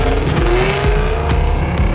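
A mineral gray 2016 BMW M4 with a dual-clutch transmission drives along, its engine droning loud and steady with a rising tone, as if the car is accelerating, and road and wind noise fill the background.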